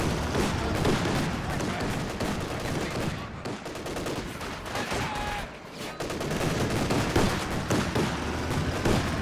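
A .50 cal machine gun rattles in Company of Heroes 2, its fire blending into a constant din of battlefield gunfire and explosions that barely lets up across the whole stretch.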